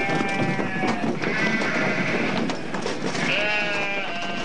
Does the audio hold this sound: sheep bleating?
yes